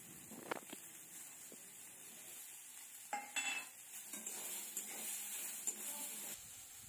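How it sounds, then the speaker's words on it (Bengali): Chopped onion and tomato fry in oil in a home kitchen, giving a soft continuous sizzle. A utensil scrapes and clinks against the pan in a few sharp bursts, with quiet gaps between stirs. "এরপরে তেলের ভেতরে দিয়ে দেওয়া হচ্ছে পেঁয়াজ কুচি। এটাকে একটু ভালোভাবে ভেজে নিতে হবে।"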